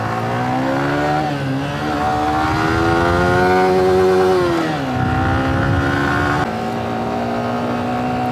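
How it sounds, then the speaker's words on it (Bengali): Motorcycles revving hard on an empty road during a ride in the rain, with loud, close engine notes rising and falling in long sweeps and no talking. "ফাঁকা রাস্তা পেয়ে সবাই মিলে টানাটানি হচ্ছে।"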